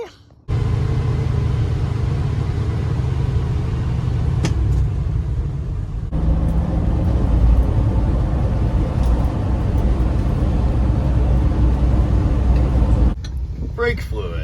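Old 1979 Ford F250 pickup truck driving, a loud continuous low engine and road rumble heard from inside the cab, fairly steady throughout, with a brief drop in the noise near the end.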